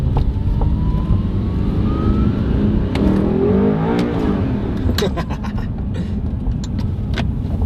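An Audi R8 supercar drives along a road and accelerates, its engine a steady loud drone with rising revs, heard from inside the car with some talking over it.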